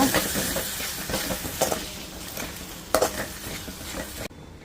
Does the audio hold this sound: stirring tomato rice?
yes